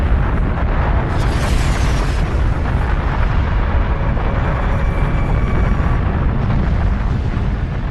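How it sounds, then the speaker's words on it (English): Simulated asteroid impact explosion: a loud, sustained roaring rumble that holds dense and steady throughout with no pauses, like a continuous blast and firestorm rather than a single short boom. "The asteroid strikes with such immense force, it destroys everything it hits."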